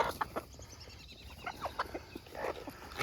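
Hens and roosters, a small overbred backyard flock, clucking in repeated short bursts at moderate distance, with scattered calls rising and falling throughout.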